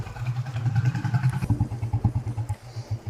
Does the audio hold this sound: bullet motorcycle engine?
yes